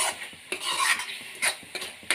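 A spoon stirs thick spice masala with tomato in a pan, giving repeated sharp scraping strokes every half second or so over a soft sizzle, close and fairly loud with no voices.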